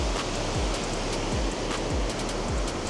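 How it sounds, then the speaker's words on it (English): Loud waterfall on a rainy night in Bergen, Norway, a constant dense rush of falling water filling the whole short stretch at close range, steady and unbroken, with no voices. "And the waterfall here is really loud."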